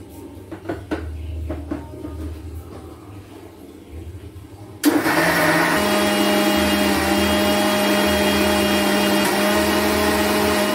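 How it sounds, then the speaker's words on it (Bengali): A mixer grinder whirs loudly as it blends milk into a smooth mango milkshake, starting abruptly after quieter handling noises and then running as a steady, continuous drone. "এটাকে জাস্ট মিক্সার গ্রাইন্ডারে মিক্স করতে হবে"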